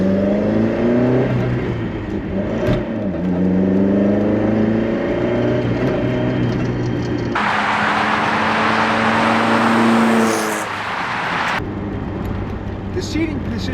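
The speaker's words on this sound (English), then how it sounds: "It's a little bit loud in here, but you know, it's a 53-year-old car at this point." Cabin noise inside a 53-year-old Lotus Europa on the move, a loud droning engine with rising and falling revs and a burst of road or wind roar midway, while someone talks over it.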